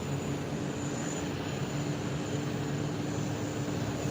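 An Emirates airliner taxiing at Heathrow at night gives off a steady, distant jet engine roar with a constant high whine, unbroken throughout and with no talk.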